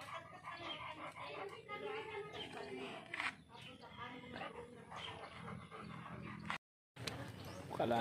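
A Belgian Malinois whimpers and yips excitedly in short, repeated cries, close by, mixed with people talking, on reuniting after a month apart.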